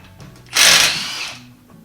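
A power tool with a 19 mm socket spins off bolts on a GM 14-bolt rear axle, giving one close, loud burst of whirring rattle that trails off over about a second.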